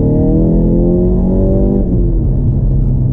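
A SEAT Ibiza Cupra Stage 2+ engine revs loudly and close, climbing steadily for almost two seconds before easing back to a lower drone. No voices are heard.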